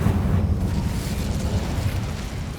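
Incendio fire spell cast in Hogwarts Legacy, a loud, sustained low roaring burst of flame that fills the whole moment without voices.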